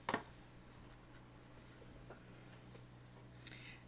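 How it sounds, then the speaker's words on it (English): Bone folder rubbing along the creased folds of a paper bag laid flat on a table during gift wrapping, a soft, faint scraping and swishing with a few light taps, close and quiet with no voices. "you can burnish them with your bone folder"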